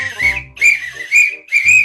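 A person whistles a short tune in four bright, separate phrases, loud and close, with brief gaps between them.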